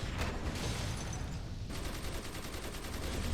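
Heavy weapon firing in DC Universe Online, a munitions loadout in combat, fairly faint repeated shots that settle into a fast regular stream in the second half over dense game noise, no talk.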